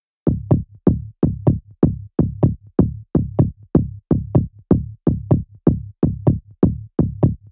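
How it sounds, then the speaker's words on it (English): The character layer of a tech house bass line in FL Studio, EQ'd to cut lows and lift low mids, with sidechain. It plays as short, punchy plucked notes in a tight, even repeating pattern, alone and moderately loud. "The second layer is the layer that adds character to the bass,"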